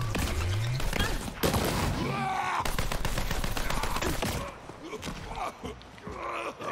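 Rapid bursts of gunfire fill a Borderlands 3 firefight, with dense repeated shots and booming impacts nearly continuous at loud level, easing slightly toward the end; a voice speaks partly under the shooting.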